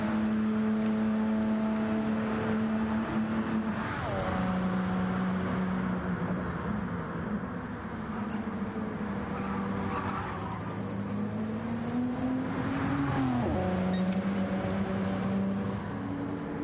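LMP1 hybrid race cars lapping Le Mans in a racing game drone with high engine tones that rise and fall through gear changes, a continuous loud whine with pitch sweeps as cars accelerate and pass.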